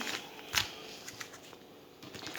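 Plastic packets of cat food, unpacked with groceries from an ATB supermarket, rustle and crinkle close up, with one sharper burst of crackling partway through and softer handling around it.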